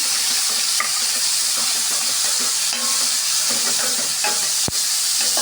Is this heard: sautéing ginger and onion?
yes